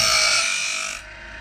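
A Woodmizer sawmill band blade tooth being sharpened with a power tool gives a steady, bright abrasive grinding rasp that cuts off about two-thirds of the way through, leaving a low, quiet hum.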